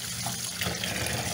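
Water running from a tap over broken wheat being rinsed in a kitchen, a steady close splashing wash that lasts the whole brief moment with no talk.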